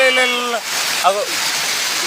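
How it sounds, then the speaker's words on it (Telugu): Rushing waterfall and fast-flowing stream water near Devarapalli village, a loud, steady broadband roar throughout, with a person speaking over it at the start and again around the middle. "ఈ జలపాతం, ఈ పొంగులు చూడొచ్చు"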